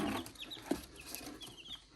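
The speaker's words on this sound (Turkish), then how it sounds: "Dostlar bakın burada civcivler var." High, thin cheeping from several chicks beside their mother hen, short rising peeps scattered irregularly, with a low cluck or two mixed in, quiet and close.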